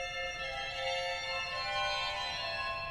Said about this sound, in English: And a carillon stop,